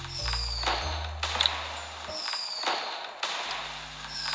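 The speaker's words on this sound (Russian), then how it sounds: "давайте тогда салют пускать уже." Fireworks go off in the Toca Life World video game for a New Year celebration, a series of bursts and crackling pops with faint pinging tones over a low background hum.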